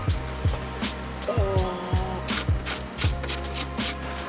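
A ratchet loosens mounting screws on a 2005 Honda S2000 under rebuild, giving quick, close clicking in steady runs with a couple of brief pauses, no talk.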